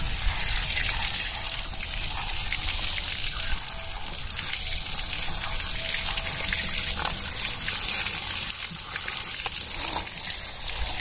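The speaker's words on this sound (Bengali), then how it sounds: "আরেকবার পরিষ্কার জলে ধুয়ে নেব।" Helencha greens being rinsed in clean water in a village kitchen: a steady splashing, trickling wash of water runs close by throughout, with scattered louder gushes and no talk.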